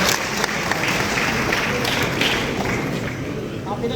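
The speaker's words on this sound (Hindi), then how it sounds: "जोरदार तालियां।" Loud, dense applause from a gathered audience honouring religious leaders at a formal ceremony, a continuous clapping wash lasting a few seconds with crowd murmur mixed in.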